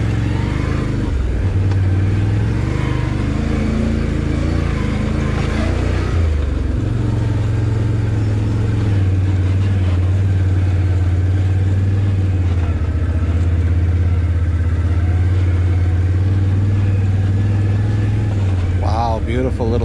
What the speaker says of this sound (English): Need to be in low gear here, I think, and I don't think there's any need to be in four-wheel drive.